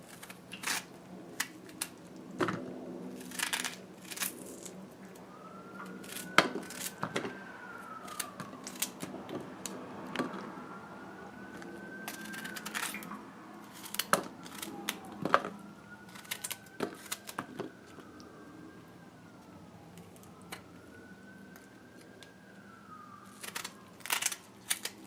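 A knife chops cucumbers on a board for Guyanese-style cucumber chutney. It gives a string of sharp, irregular cutting taps close by, with a faint whistling tone drifting in the background.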